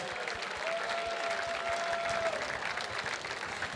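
A gala audience for an outdoor-adventure organization breaks into sustained applause, many hands clapping evenly in a large room, with a faint steady tone lingering underneath.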